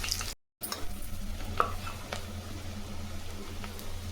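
Mustard seeds, onion and dried chillies fry in hot oil for a Chettinad mutton kulambu, giving a steady close sizzle with faint crackles and stirring scrapes, briefly cut to silence near the start.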